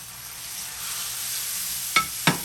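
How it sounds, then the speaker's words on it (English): Tomatoes hitting lightly browned onions in a pan bring up a steady sizzle, followed by two sharp scraping or stirring hits near the end, close and clear. "The onions is lightly brown, so I'm gonna add my tomatoes."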